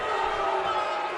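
A wrestling arena crowd roars in a steady, loud wash of cheering for Connor during an NXT match.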